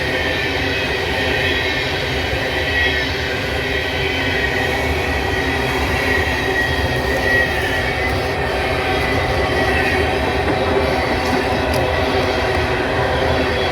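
A southbound BNSF intermodal pig train of empty cars rolls uphill around a curve near Abbeville, South Carolina, a steady continuous rumble of wheels and cars at close range, sustained throughout with no voices.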